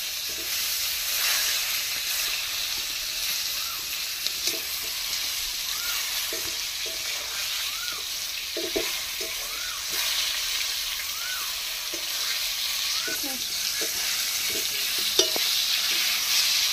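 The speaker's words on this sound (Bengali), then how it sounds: "বন্ধুরা দেখুন ভাজা হয়ে গেছে" Steady sizzling of pointed gourd frying in oil, with occasional stirring clinks and scrapes and faint chirping in the background.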